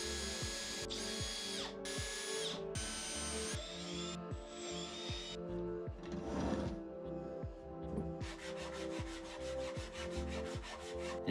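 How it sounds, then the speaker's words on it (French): A power drill pre-drills holes in a wooden box, then screws are driven in, several short whining bursts followed by rubbing and a rapid ratcheting buzz, close and clear with no talk. "j'ai prépercé des emplacements puis vissé dedans"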